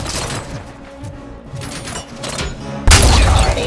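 Rapid gunfire rattles in the Robocop video game, dense bursts of shots crackling through the first seconds before a louder, booming blast takes over near the end.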